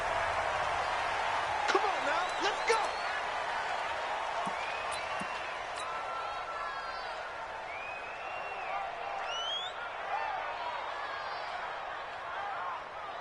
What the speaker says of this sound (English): This crowd is ready as their guys get set to match up between the Miami Dolphins and the Minnesota Vikings